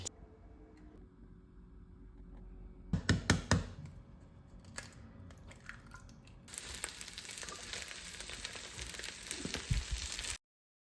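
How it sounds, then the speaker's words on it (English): An omelette fries in a pan: a steady sizzle grows louder and brighter partway through, with a few sharp clicks and utensil taps near the start and no talking. "I'm gonna make this omelette now because I'm actually just starving."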